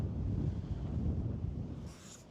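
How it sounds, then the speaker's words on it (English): Outdoors on a golf course, wind buffets the microphone in a steady low rumble that fills the whole stretch, easing slightly toward the end with no one talking. "Oh, bloody wind."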